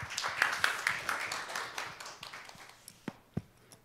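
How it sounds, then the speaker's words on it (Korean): Audience applause welcoming a university president at a 2019 university presidents' summit conference, a moderate patter of clapping that thins out, ending in a few scattered claps. "박수로 환영해 주시기 바랍니다"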